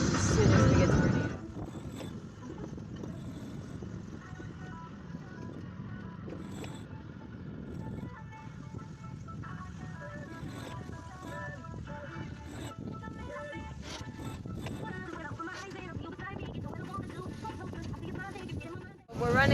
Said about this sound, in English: the problem is the motor is making a weird rattling noise